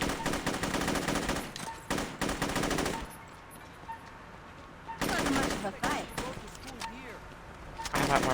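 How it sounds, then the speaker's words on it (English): Rapid automatic gunfire from the Saints Row video game fires in loud, dense bursts, then drops away for a couple of seconds before more shooting and another burst at the end. "Just shooting a whole bunch of people feels weird."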